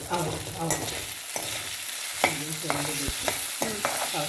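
Vegetable masala rice is stirred in a pan over a medium flame, with a steady sizzle of frying under repeated scraping strokes of a spoon against the pan, close and fairly loud.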